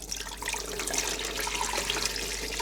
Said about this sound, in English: I'm gonna start to put the water.